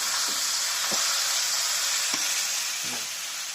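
Palak paneer fries in a pan on a lowered gas flame, a steady, close sizzle running throughout, broken by a few soft scrapes of stirring.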